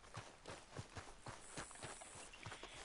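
A horse's hooves in Red Dead Redemption 2 on PS4 Pro thud in a steady walking rhythm, several evenly spaced steps close by, with no talking over them.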